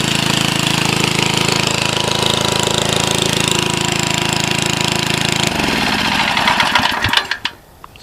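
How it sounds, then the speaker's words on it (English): Small portable generator running with a loud, steady rattling engine drone that shuts off partway through and sputters to a stop. "you get to the little generator."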